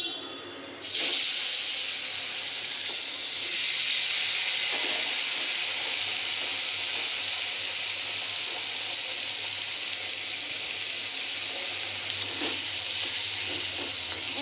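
Greens and peanuts fry in a hot wok with mustard seeds and dried red chilli, a steady dense sizzle that starts abruptly after a brief pause and holds loud and close with occasional stirring clicks.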